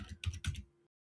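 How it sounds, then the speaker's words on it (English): Rapid keystrokes on a computer keyboard while entering a prompt into a spreadsheet, a short burst of clustered clicks close to the microphone that stops abruptly into silence. "So we'll start typing create an."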